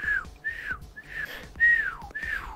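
Someone whistles a series of short, sliding notes by mouth, each rising then falling, in quick succession close to the listener.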